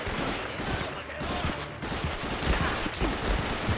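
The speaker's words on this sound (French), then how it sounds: "Mitrailleuse!" Machine gun fire in a video game, dense rapid bursts of shots rattling continuously at moderate distance, mixed with voices talking over the gunfire.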